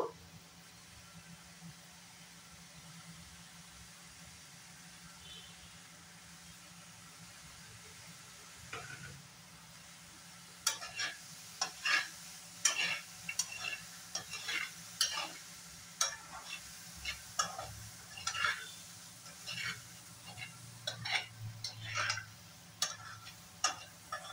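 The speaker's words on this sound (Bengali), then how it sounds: "আলুটা এখন দিয়ে দেব।" Finely chopped potatoes are added to a pan for oil-free aloo matar, with quiet sizzling followed by a repeated series of distinct stirring scrapes and taps against the pan.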